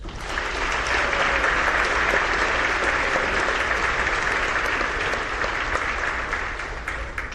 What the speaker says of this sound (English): Please, everyone, a round of applause.